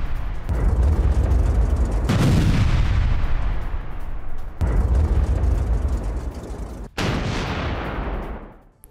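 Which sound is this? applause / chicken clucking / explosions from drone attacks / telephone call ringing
explosions from drone attacks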